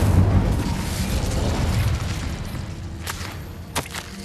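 An Incendio fire spell cast in Hogwarts Legacy, heard as a loud whooshing burst of flame that roars and slowly fades, followed by a couple of sharp crackling pops.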